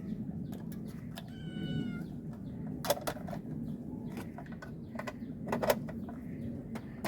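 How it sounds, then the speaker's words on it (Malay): Several cats meow repeatedly, with sharp, intermittent calls scattered over a steady low background hum, some near and some a little farther off. "Banyak kucing."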